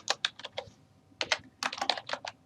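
Quick, close keystrokes on a computer keyboard as table entries are typed, with two rapid clusters of key presses split by a short pause and no talking.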